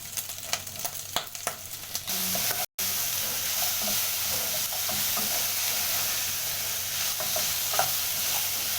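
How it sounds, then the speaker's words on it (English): Onions frying with browned beef in olive oil, a steady broadband sizzle with scattered stirring clicks, close and fairly loud, briefly cut by a short gap early on. "beef with some olive oil. Next you add in your onions."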